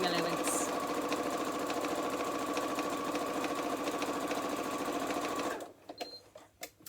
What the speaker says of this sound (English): Resting this back onto the machine and sewing along that raw edge using that 1/4 inch seam allowance.